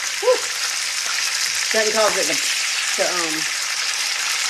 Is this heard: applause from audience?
no